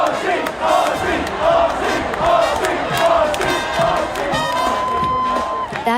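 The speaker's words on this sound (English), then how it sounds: "That is the sound of thousands of mourners and Ozzy Osbourne fans who've flocked to Birmingham to pay tribute to the Prince of Darkness" Thousands of Ozzy Osbourne fans and mourners gathered in Birmingham for his funeral make a loud, continuous crowd roar of cheers, shouts and whoops, with some individual voices rising above the dense mass.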